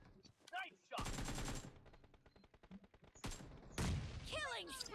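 Bursts of automatic gunfire in the mobile shooter PUBG Mobile, loud rapid rattling volleys separated by short gaps, close and sharp, with voices speaking between and over the shots.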